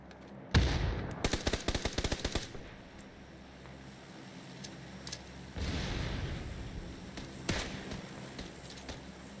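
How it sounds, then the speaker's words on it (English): Rapid video game gunfire in two bursts, a sharp cluster of crackling shots early on and a later rattling volley, fairly close against a low background hum with no talk. "We're taking fire from southeast."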